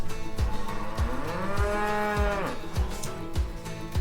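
A cow moos in one long, drawn-out call as a sound effect in a read-aloud children's story about a farm, set over a steady rhythmic beat of music.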